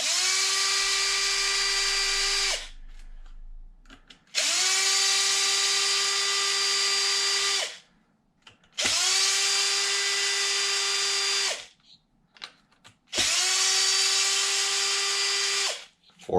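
A power drill spins out the cush drive bolts on a Traxxas XRT RC truck in four separate loud whirring bursts, each starting with a quick rise in pitch and ending abruptly, with brief quiet gaps between them.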